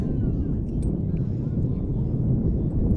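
Steady low rumbling wind buffets the microphone at an outdoor high school soccer game, a constant dull roar with no pauses.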